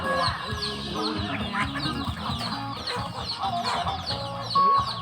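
A flock of chickens on a Thai farm clucks and chatters nonstop, overlapping calls from several birds close by, with a louder squawk near the end.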